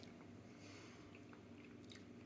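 Close, quiet chewing of dense, chewy bread served with tofu in a crushed red pepper and sun-dried tomato sauce, a soft run of moist bites and squishy mastication with no talking.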